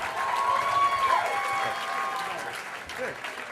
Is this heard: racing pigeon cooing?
no